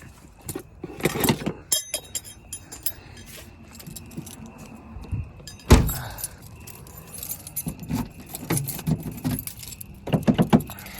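Car keys jangle and clink close by while an Audi is being locked, in irregular shaking bursts with a sharp clack near the middle, set against quiet outdoor background and no speech.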